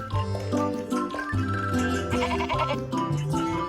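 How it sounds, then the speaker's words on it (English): A goat bleats close and clear, with several wavering calls following one another in quick succession and no talking. "G for goat."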